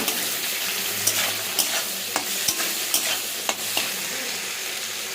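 Ingredients with chopped tomato and bay leaf fry in a pan, a steady close sizzle punctuated by regular scraping clicks from stirring, no voices.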